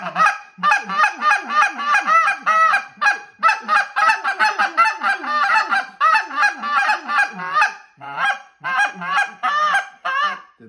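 A handheld goose call blown to imitate honking geese, sounding a rapid run of loud, close two-note honks and clucks in tight bursts with short pauses between sequences.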